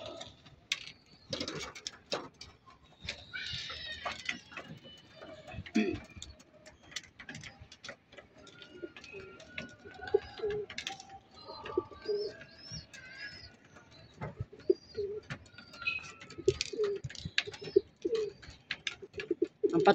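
Pigeons coo repeatedly at close range while being fed a flyer mix of seed and hemp, with soft tapping and pecking sounds scattered among the calls.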